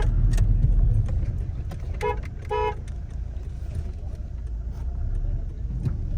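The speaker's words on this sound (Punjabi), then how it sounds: "ਆਪਾਂ ਗੱਡੀ ਅੰਦਰ ਹੀ ਲੈ ਚੱਲੀਏ" A car rolls into a stud farm on a steady low engine and road rumble, with a couple of short horn toots near the middle.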